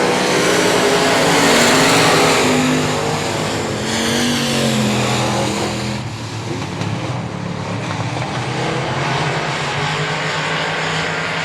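Race cars at I-37 Speedway roar down the back straightaway, a loud, sustained engine drone with passing pitch shifts that swells and fades slightly as cars circle the track.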